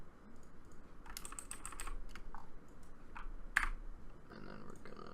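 Computer keyboard keys pressed in a quick irregular series of light clicks, including a shift and arrow-key combination during music production work, fairly close and clear over a low steady background hum.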